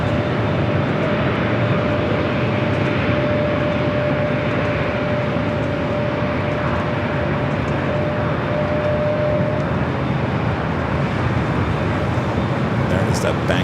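A JetBlue jet taking off from Los Angeles International and banking left gives a loud, continuous broadband roar with a faint steady tone, holding level throughout as though heard from nearby.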